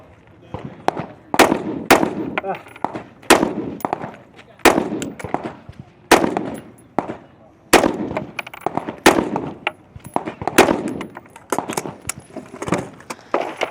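A competitor in a men's elite shooting-race stage fires a rifle from the prone position: a steady series of a dozen or so sharp, loud cracks spaced roughly a second apart, with faint background voices.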